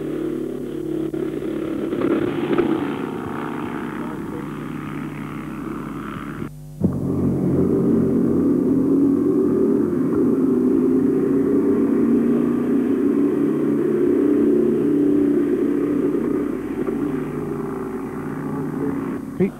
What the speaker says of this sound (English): Cecil Wilson using an air-cooled matchless engine